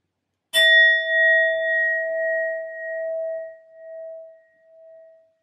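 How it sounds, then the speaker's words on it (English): A singing sound bowl is struck once and rings out clear and close, its bright tone sustaining and slowly wavering as it fades over several seconds. "I will be using my sound bowl to clear and set the energy as always"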